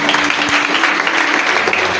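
A church congregation applauds loudly and steadily, a dense close wash of clapping with faint voices mixed in.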